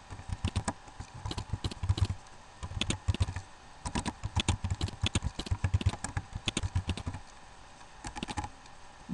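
Rapid, irregular keystrokes on a computer keyboard while entering code for an ASP.NET Ajax page, close and steady in bursts with brief pauses, no voices.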